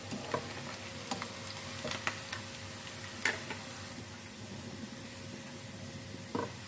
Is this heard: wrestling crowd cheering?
no